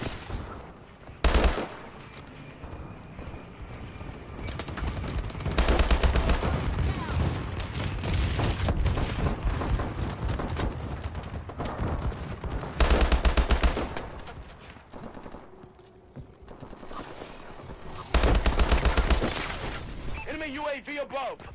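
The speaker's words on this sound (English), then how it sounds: "Friendly bombing run clearing the way." Explosive bombing run and bursts of gunfire in a war video game, with heavy booms recurring every few seconds over steady rattling fire, and a game voice talking over the battle.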